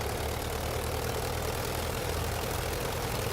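An aircraft engine idles in a flight simulator game during a multiplayer fly-in event, a steady, unbroken low drone with a hissing, rough texture and no voices over it.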